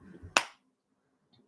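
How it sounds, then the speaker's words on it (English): A single sharp hand clap rings out close by, one crisp slap that fades quickly into near silence, with faint low murmuring just before it. "I'm clapping like one time"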